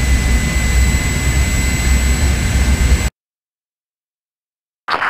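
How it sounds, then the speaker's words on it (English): Jet plane engine in the video game IGI 1, a loud steady roar with a high whine on top. It cuts out abruptly for nearly two seconds, then briefly returns at the end. "Keep that plane low."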